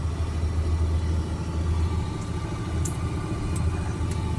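A heavy three-axle dump truck with double rear tires labors up a steep road, its engine a steady, loud low rumble held under strain for the whole stretch with no talk.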